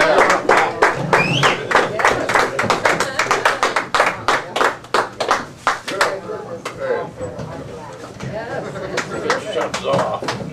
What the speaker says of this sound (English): Let's give them the power clap.